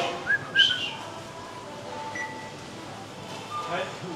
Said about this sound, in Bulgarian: Започна съм много яко да свиркам